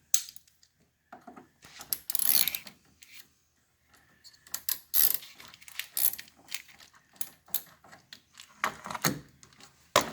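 A ratchet works a 10 millimeter nut on a car battery terminal, giving bursts of quick metallic clicks separated by pauses, close and moderately loud, with no talking.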